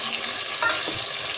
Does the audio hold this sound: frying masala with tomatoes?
yes